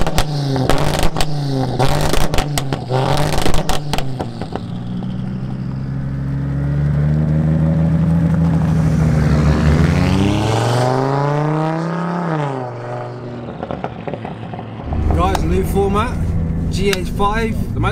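Heavily tuned 900bhp Audi RS3 8P pulling away on the road, its engine rising in a long loud revving surge that peaks and drops, with people talking over the start and end.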